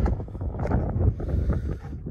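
Strong wind buffets the microphone in a continuous low rumble with gusting swells, no other sound standing out.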